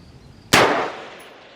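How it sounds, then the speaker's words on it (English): Single sharp metallic clang of a rifle bullet striking an 8-inch round steel plate at 400 yards, a crisp impact with a ringing tail that fades over about a second against quiet outdoor background. "Good hit, and that's only an 8-inch plate you're shooting at"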